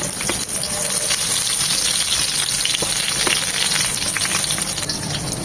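Eggplant slices fry in hot mustard oil, a dense, loud, continuous sizzle with crackling spits and no pauses, close up and with no voices.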